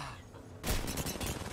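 Gunfire in the video game Apex Legends erupts after a brief lull into a dense, loud rapid burst of shots that continues to the end.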